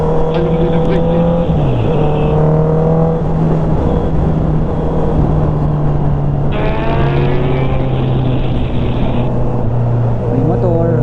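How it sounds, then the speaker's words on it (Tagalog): A motorcycle riding without lights passes on a road near Jariels Peak in Infanta, Quezon, its loud, steady engine drone rising and falling in pitch, while people talk over it throughout. "May motor, walang ilaw."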